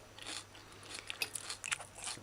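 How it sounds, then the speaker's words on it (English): Fresh snow peas with shrimp in oyster sauce are crunched between the teeth, a quiet close-up run of crisp bites and crackly chews, with several sharper snaps near the end. "I can still hear the crunch and feel the crunch of the snow peas"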